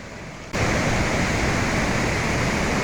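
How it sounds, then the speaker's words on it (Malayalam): Rushing water at the large lower tier of the three-tiered Mankayam waterfall: a quieter wash at first, then a sudden jump to a loud, dense, steady roar of falling water, heard close up with no voices. "അതിൻ്റെ താഴത്തെ വലിയൊരു വെള്ളച്ചാട്ടം."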